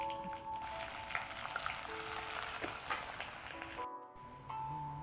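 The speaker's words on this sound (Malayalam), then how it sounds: "ഇനി അതിലേക്ക് ഒരു പകുതി സവോള അരിഞ്ഞു വെച്ചിട്ടുണ്ട്, അതൊന്ന് ഇട്ട് കൊടുക്കാം." Chopped onion and curry leaves fry in oil for sambar, a soft, steady sizzle with faint crackles, fairly quiet and continuous with a brief dropout near the end.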